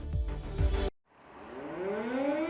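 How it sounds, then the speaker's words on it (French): Air raid sirens in Ukraine at the start of the Russian invasion: a loud, rough burst cuts to near silence, then a siren wails in from afar, its rising tone swelling steadily. "Le 24 février, les sirènes retentissent."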